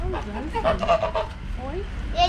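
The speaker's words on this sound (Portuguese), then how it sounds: "é, é um ganso, não? é um pato ou um gato?" Geese or ducks honk in a farmyard in Portugal, a few loud, harsh calls close by among other fowl, with people talking over them.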